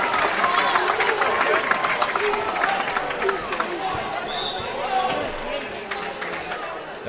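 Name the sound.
crowd cheering at volleyball tournament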